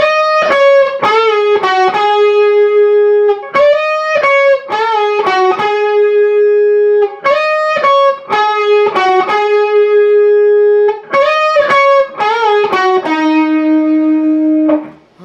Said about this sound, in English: So the second harmonized guitar will be doing this.